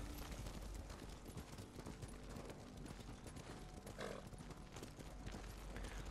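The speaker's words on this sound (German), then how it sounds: "wir reiten da jetzt einfach hin" Steady clip-clop of horse hooves during a ride in the video game Ghost of Tsushima, a continuous galloping rhythm heard fairly quietly and without talk.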